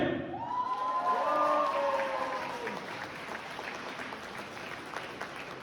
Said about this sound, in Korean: 신부가 들리게끔 박수와 함성 크게 한 번만 보내주세요